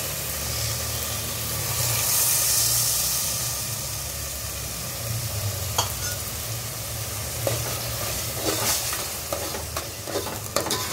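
Spice paste being stirred into vegetable biryani in a pan: a broad continuous sizzle and steam hiss with occasional spoon scrapes and taps toward the end, no voices.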